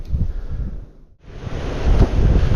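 Strong, gusty wind blows across a riverbank during a fishing trip, buffeting the microphone with loud rumbling roars. A brief lull comes before the wind picks up again, and no one speaks.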